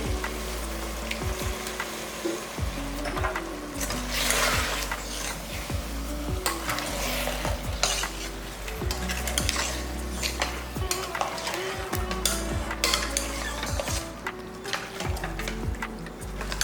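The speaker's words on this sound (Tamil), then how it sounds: "நல்ல மட்டன் வந்து எப்பயுமே இந்த மாதிரி நல்லா வதக்கிடணும்." Mutton pieces cut to biryani size are stirred and sautéed in a pan for mutton gravy, with steady scraping, clinking and sizzling throughout, close and fairly loud, no talking.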